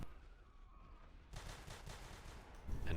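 Rapid gunfire bursts in the sci-fi shooter game Natural Selection 2, pistol shots cracking in a dense, fast volley over steady background game noise, loudest near the end.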